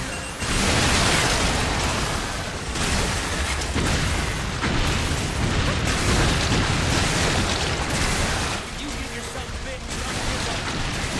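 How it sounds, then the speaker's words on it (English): Grenades go off in rapid succession during an Earth Defense Force 6 battle, loud rumbling blasts and bursts layered over chaotic game noise, with someone talking throughout. "Throwing them little baby grenades"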